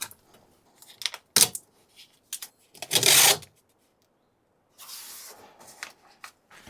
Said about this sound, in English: I'm simply going to use some lacquer toner.